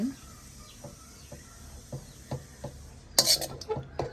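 A small spoon stirs chicken kothu rotti in a pan, making soft rhythmic scrapes and taps close by, followed by a brief burst of louder metallic clatter near the end.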